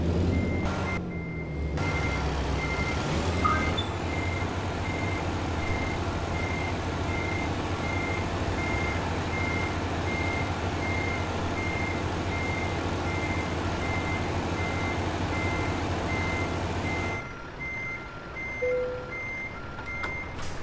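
A truck in American Truck Simulator backs up with steady, evenly spaced reversing beeps over a constant diesel engine drone, continuing for most of the stretch before the beeping stops.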